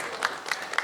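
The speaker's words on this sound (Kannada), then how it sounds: "ನಿಮ್ ಚಪ್ಪಾಳೆ ಇರಲಿ, ಹೌದಲ್ಲ?" A crowd applauds at a retirement felicitation for a long-serving engineering subdivision employee. The brief clapping comes in a few soft, evenly spaced bursts at moderate distance.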